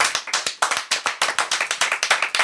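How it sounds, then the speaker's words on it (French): Sharp, rhythmic clapping close by, a small group welcoming a guest's arrival on a French broadcast, with quick strong claps in a fairly even beat and no speech. "on va quand même applaudir aussi l'arrivée de Monsieur William."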